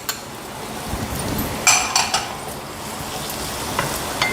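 Finely chopped beans and other vegetables stir-fry in a pan for vegetable fried rice, giving a low continuous sizzle broken by a few clinks and scrapes of a utensil against the pan.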